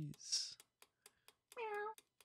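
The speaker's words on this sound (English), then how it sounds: "Kitties." Cats meow in two short, clear calls, close and quiet, amid soft clicks like keyboard taps and brief bits of speech.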